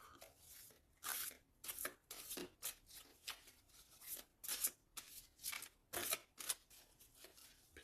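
A deck of tarot cards being cut and handled by hand, giving a quick series of crisp papery riffles and slaps in an irregular rhythm, close and fairly quiet, with no talking.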